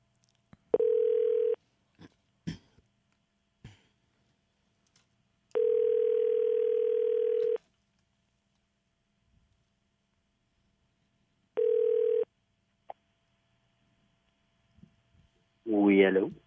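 Ringback tone on an outgoing phone call to a radio show, three long steady tone bursts separated by silence, with brief voices in between and a voice answering at the end.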